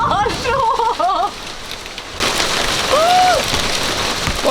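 Hail and rain drum on the roof of a narrowboat during a storm, a loud, steady clatter that swells midway and keeps going under excited voices.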